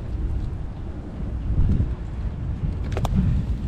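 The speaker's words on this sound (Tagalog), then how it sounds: "Kailan kaya titila tong hangin?" Strong amihan wind at sea roars in a heavy low rumble of gusts buffeting the microphone, with faint creaks and clicks of a fishing boat above it.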